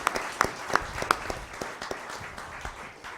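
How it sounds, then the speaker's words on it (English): An audience at an energy debate breaks into brief, moderately loud applause with scattered individual claps that taper off over a few seconds. "We should give him an applause."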